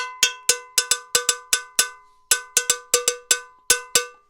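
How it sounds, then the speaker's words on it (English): A cowbell struck about fifteen times in a steady, bright rhythm, each hit ringing close and loud with a short metallic decay and a brief pause midway. "we got cowbell. See? Cowbell."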